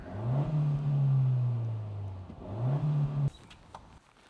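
Honda car engine revved twice, a long rising surge then a shorter second blip before cutting off sharply, leaving faint background noise; close up with no voices.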